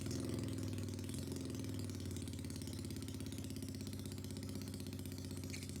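A small moped engine running steadily with a rattling, buzzing drone and a fault that makes it bog when the throttle is opened, faint and unbroken throughout.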